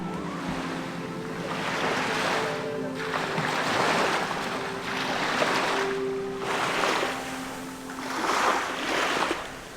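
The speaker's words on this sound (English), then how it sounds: "lay there listening to the waves roll in" Ocean waves roll onto a shore at night, several broad surges washing in and receding in a steady rhythm, close and fairly loud with wind mixed in.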